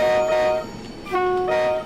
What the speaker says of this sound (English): Is that what 90 horns sound like?